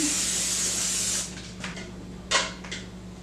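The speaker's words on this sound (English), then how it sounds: "I have just non-stick cooking spray. Spray my pan." A continuous hissing spray from an aerosol can of non-stick cooking spray onto a pan lasts about a second, followed by a few short spritzes and faint clatter.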